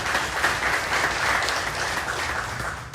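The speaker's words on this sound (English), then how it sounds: "let's give her a round of applause as well" Round of applause at a school district bond meeting, an even, sustained wash of many hands clapping in a room, steady and fairly close, with no talk over it.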